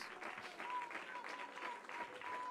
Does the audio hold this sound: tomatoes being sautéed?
no